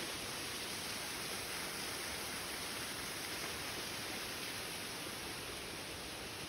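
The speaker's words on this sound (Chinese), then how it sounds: "有小瀑布。" A small waterfall inside a bat cave pours in a steady, dense rush of water that fills the whole space evenly and continuously, with no voices over it.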